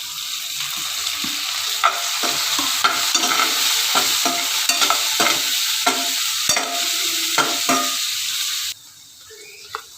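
Tomatoes stirred into sizzling fried onion and ginger-garlic paste in a pan for dal tadka, loud continuous frying crackle with repeated scraping spoon strokes, dropping to a softer sizzle near the end.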